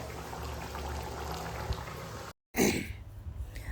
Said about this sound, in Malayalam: നമ്മുടെ ചിക്കൻ കറി ഇവിടെ ഇങ്ങനെ തിളച്ച് പറ്റിക്കൊണ്ടിരിക്കുന്നുണ്ട്.